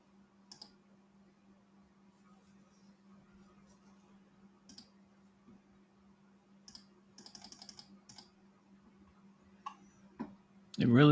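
Computer keyboard and mouse clicks at a desk, sparse faint taps and a short quick burst of typing over a steady low hum, ending in a louder rustle.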